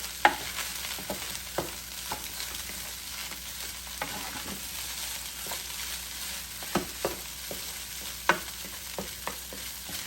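Garlic fried rice with seasoning salt is stirred in a pan, a low steady sizzle broken by repeated sharp clacks and scrapes of the utensil against the pan at an uneven pace.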